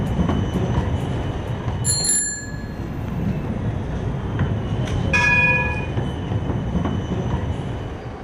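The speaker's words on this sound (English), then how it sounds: "It's time to catch the train to Amsterdam Belmeer, which is 20 minutes east of Central Station." A passenger train heading to Amsterdam Bijlmer station rumbles along the rails, wheels clattering and squealing, with sharp high bell-like chimes ringing twice over the steady close roar.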